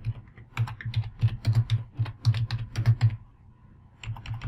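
Code being typed on a computer keyboard, a quick irregular run of close, crisp key clicks in bursts with a short pause before the clacking resumes.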